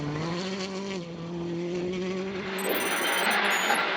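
Hyundai i20 rally car in bright green livery running a wet tarmac stage in Galway, engine note holding a steady drone then climbing in pitch as it accelerates, loud and close throughout.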